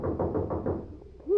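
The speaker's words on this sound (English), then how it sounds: "Here's a knock that ought to bring out the militia." A run of heavy, evenly spaced knocks on a door, about four firm raps close by, ends in a short pause and a brief tonal sound, in a 1930s radio drama scene.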